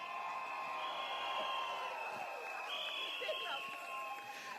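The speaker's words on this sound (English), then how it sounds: "Can you give yourselves a cheer and a pat on the back" At a Singapore Democratic Party rally held at a primary school for Bukit Panjang SMC, a crowd cheers and whoops in a sustained, high-pitched roar, with overlapping shouts and yelling voices lasting throughout.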